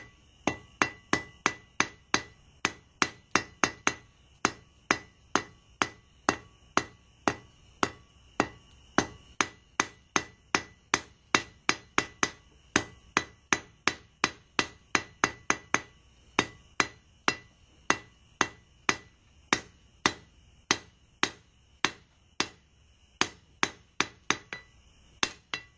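Hammer striking hot steel while forging a simple fire poker, sharp ringing blows in a fast, steady rhythm of dozens of strikes, close and loud with no talking.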